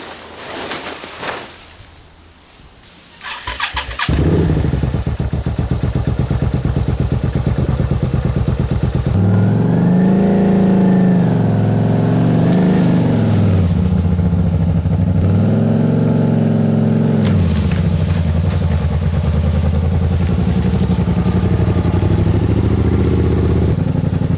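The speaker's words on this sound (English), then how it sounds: "Just gonna wear out the starter." An overheated engine turning over on its starter with a rapid clatter, then catching and running loud and close, revving up twice in long rising and falling surges.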